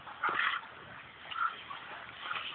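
A dog whimpers and yips in faint, short bursts outdoors on grass while being squirted with water.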